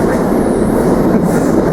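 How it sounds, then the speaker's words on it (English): A train rolls past close by near Stratford station, a loud, steady rumble of wheels and carriages that fills the whole moment without a break, with no voices over it. "Familiar sound of trains passing by for sure."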